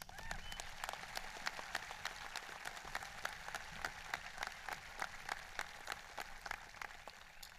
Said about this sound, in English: I ask for a round of applause.